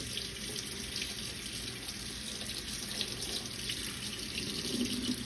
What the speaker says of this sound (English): now I'm going to rinse it off. Nice and gentle.